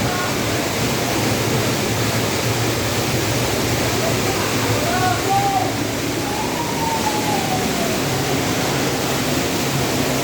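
Waterfall at Robbers Cave (Guchhupani) in Dehradun, a constant loud rush of falling water in light drizzle, with faint voices mixed in.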